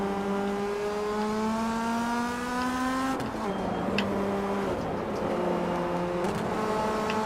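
A race car engine in the Rennsport racing game whines through rising gear pulls. It drops in pitch on a shift about halfway through and then climbs again, steady and loud with no break.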